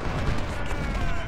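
Cannon fire in the Civil War strategy game Ultimate General: Civil War, a dense loud rumble of overlapping booms filling the brief moment continuously, with a voice faintly beneath.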